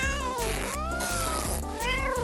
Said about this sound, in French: C'est un chat, ça?